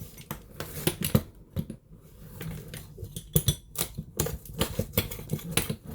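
A pizza cutter slices through the cardboard and plastic packaging of a Bush stick vacuum cleaner. It makes close, irregular scraping and crackling cuts with sharp ticks and rustles, and no talking is heard.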